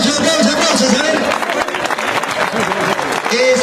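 A bullfight crowd in Matucana applauds, dense clapping spread across the whole short stretch, loud and close, mixed with crowd noise and a voice speaking over it.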